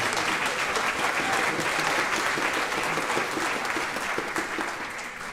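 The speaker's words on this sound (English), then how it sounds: "want to give him a round of applause." Steady audience applause fills a choir concert hall, dense and sustained throughout, fading slightly toward the end with no voices over it.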